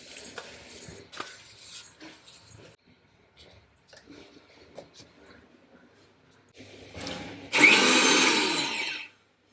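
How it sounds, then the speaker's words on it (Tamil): A mixer grinder whirs loudly for about two seconds near the end, a dense high-pitched grinding roar, after quieter kitchen clatter. "அதுக்கடி இதை அரைச்சிட்டு வந்துடலாம்."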